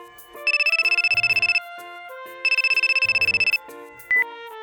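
A telephone rings with an electronic, trilling tone in two long, loud bursts separated by a short melodic pause, close and alone with no talking.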